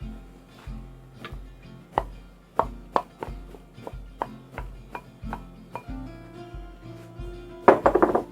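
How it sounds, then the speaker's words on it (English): A spoon stirs sweet and sour sauce into chicken in a pan, making a steady series of close, sharp knocks and scrapes about twice a second, ending in a quick cluster of clatters. "Gonna give that a good stir."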